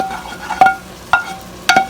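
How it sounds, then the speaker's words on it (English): A utensil stirs sausage juice back into the pan where Italian sausage cooked, with a few sharp scraping clinks and a faint sizzle beneath, no voices. "take a little bit of the juice, stir it back in the pan where the sausage was"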